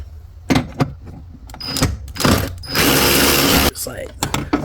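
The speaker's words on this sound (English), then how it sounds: "Then we need to remove the bolt right there." A ratchet works a 10 mm bolt loose on a Toyota Prius hybrid battery. Close, irregular clicks and scrapes come in short bursts, with one steady grinding stretch in the middle.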